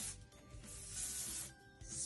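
Hairspray hisses onto a child's hair bow in a continuous, faint, breathy spray lasting about two seconds, with no one talking.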